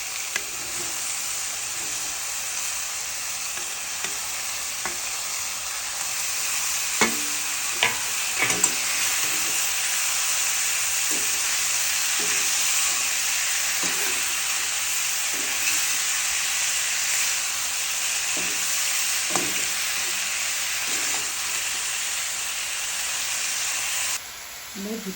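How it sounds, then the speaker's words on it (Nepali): Goat stomach (bhutan) frying in a pan, a steady loud sizzle lasting about 25 seconds, broken by repeated short scrapes and clatters of stirring, with no talk. "हामी भुटान यस्तो बेसी भुट्नुपर्छ हजुरहरू"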